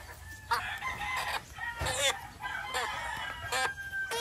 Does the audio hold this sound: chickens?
yes